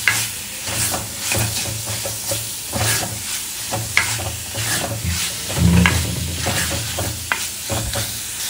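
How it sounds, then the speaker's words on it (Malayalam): Prawns sauté in a hot pan, giving a continuous loud sizzle with repeated spatula scrapes and stirring clicks spread across the whole stretch. "അതിലോട്ട് നമുക്ക് കൊഞ്ച് കൂടിയിട്ട് ഇളക്കി കൊടുക്കാം"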